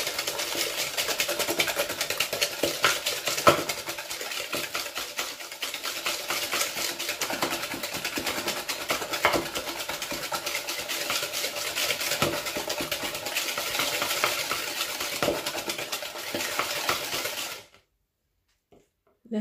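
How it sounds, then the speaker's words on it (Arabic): Sugar being stirred in a bowl to dissolve it for economical one-egg chocolate chip mini muffins, a steady close scraping and whisking texture with rapid irregular ticks, continuous for about seventeen seconds before stopping abruptly. "بسم الله نخلطهم مع بعضهم نحاول باش نذوب السكر."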